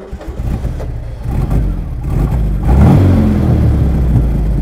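Porsche 356 Speedster engine revving as the car pulls away, the loud, close air-cooled flat-four growling and climbing in pitch over several seconds with no talk.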